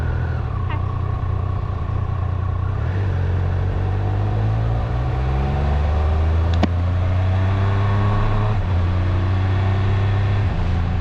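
A motorcycle carries a passenger through town, its engine droning loud and steady with rising and falling revs as the rider shifts, wind rumble throughout, no voices.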